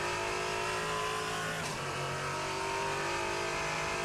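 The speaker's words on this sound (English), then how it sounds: "this is the original sound of the car, of the mods" A race car engine from a mod in the racing sim Assetto Corsa drones steadily and loud throughout, with a brief shift or rev change near the middle and no talking over it.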